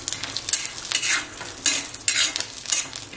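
Garlic sizzles as it roasts with peanuts in a hot pan for dry peanut chutney, a steady crackling hiss with surges of stirring scrapes, close and fairly loud, with no talking.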